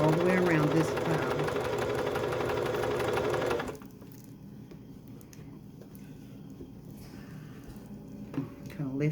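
A sewing machine stitching a quilt runs with a loud, steady, fast mechanical whir for several seconds, then stops and leaves quieter handling and rustling of fabric, with a person talking over it.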